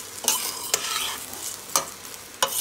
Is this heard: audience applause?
no